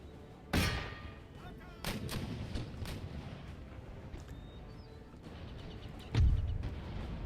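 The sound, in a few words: artillery bombardment of walls in Empire Total War video game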